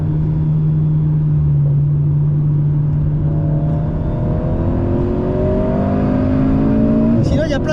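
A car accelerating on a racing track during a driving coaching session, its engine drone rising steadily in pitch and loud throughout, with a rushing burst near the end.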